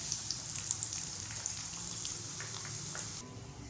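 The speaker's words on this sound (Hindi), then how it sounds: "अब हम इसको फ्राई कर लेंगे" Leftover maida dough scraps fry in hot oil to make papdi, giving a continuous close crackling sizzle with scattered pops, steady throughout before easing slightly at the end.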